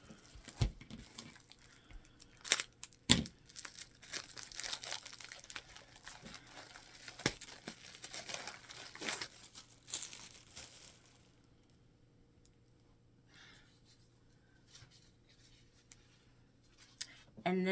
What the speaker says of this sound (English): I got a jelly roll. And let me take the plastic off.